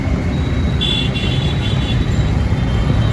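Road traffic in Noida: a steady wash of passing car and engine noise, with a brief faint horn-like tone partway through and no talking.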